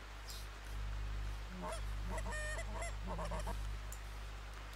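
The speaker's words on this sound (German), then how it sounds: "So, da kommen schon die Gänse." Geese honk in the hunting video game theHunter, several bursts of calls in the middle, moderately distant over a steady low hum.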